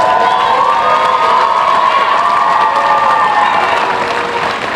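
Graduation crowd at the 2022 Mayo High School for Math, Science and Technology commencement, loud and close, with sustained applause mixed with cheering, whoops and shouting voices throughout, easing slightly at the end.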